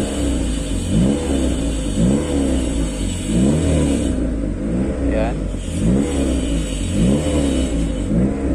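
A car engine is revved in repeated surges about once a second, each rise and fall close and fairly loud, while jump cables from the donor car's battery charge a flat one; someone talks over the engine.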